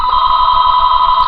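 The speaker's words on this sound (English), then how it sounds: "I'm sorry for the ringing phone." A telephone rings with a loud, steady electronic trill, close and continuous throughout.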